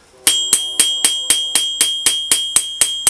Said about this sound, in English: I might do some fast forward of this hammering process so you won't be bored.